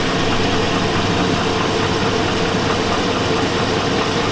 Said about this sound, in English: Sounds like rod knock to me.